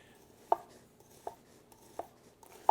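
An onion being sliced with a nakiri knife on a cutting board: four crisp, evenly spaced chops roughly three-quarters of a second apart, close and clear over a quiet room with no voices.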